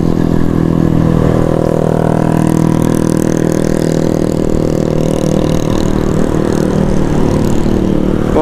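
A Yamaha RX two-stroke motorcycle engine and exhaust running steadily at night during a road trip, a continuous near droning hum with even tone throughout, no talk.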